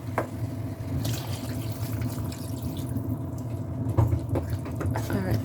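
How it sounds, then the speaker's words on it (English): Water is poured into a pan of beetroot chicken curry, giving a steady liquid rush and splash that runs the whole time. Faint kitchen clatter and clicks sit underneath. "there goes in the water"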